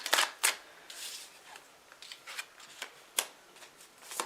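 Tarot cards shuffled and drawn in a series of crisp, close riffling and snapping bursts separated by short pauses, with no voices.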